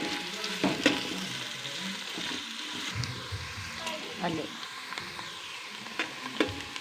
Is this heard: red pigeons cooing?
no